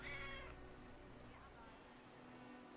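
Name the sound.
cat meowing in video game Brothers: A Tale of Two Sons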